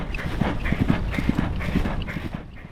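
Horses at a guest ranch outside Sandpoint, Idaho, run out to their overnight pasture, a dense, loud rumble of hooves pounding on the ground, steady throughout, with no talking.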